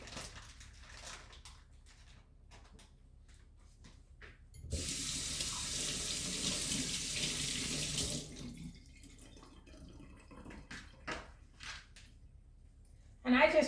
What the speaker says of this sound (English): I always rinse my meat.